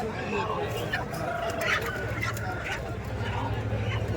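Kundarapalli breed hens clucking and cackling at a weekly village market, over the steady hubbub of a busy outdoor crowd, with people chattering in the background throughout.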